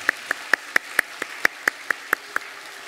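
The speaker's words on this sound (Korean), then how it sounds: "박수하겠습니다." Rhythmic unison clapping from a church congregation at a Wednesday service, about a dozen sharp, evenly spaced claps in a steady beat, crisp and fairly close against a quiet room.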